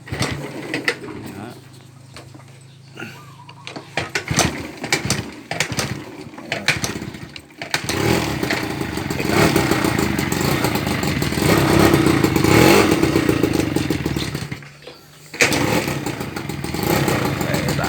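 A small RC car engine, about 20 years old and fitted with a new exhaust pipe, sputters, clatters and catches, then revs and runs steadily with a buzzing rasp, briefly cutting out before starting again.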